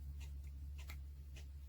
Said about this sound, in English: Every time I turn it, it locks in, it clicks.